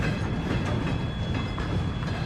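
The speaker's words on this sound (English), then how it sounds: "A huge freight train moving specialist military equipment associated with a nuclear arms welding division of Russia's defense ministry has been spotted on the move" Huge freight train moving specialist military equipment, a continuous loud rumbling roar of rolling wagons with faint rhythmic clatter, steady throughout.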